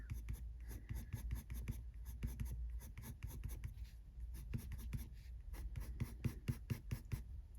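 Coloured pencil scratching rapidly on paper, close and quiet, in quick rhythmic back-and-forth strokes that continue throughout.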